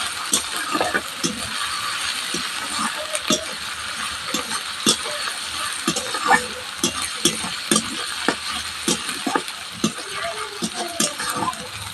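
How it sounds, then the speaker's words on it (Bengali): Garlic paste fries with browned onions in a pan, a steady close sizzle broken by frequent scraping clicks and knocks of stirring throughout. "পেঁয়াজ আমার ভালোভাবে ভাজা হয়ে গেছে এবার দিয়ে দিচ্ছি এর মধ্যে রসুন বাটা"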